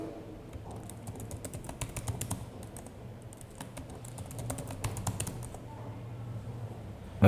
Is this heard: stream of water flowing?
no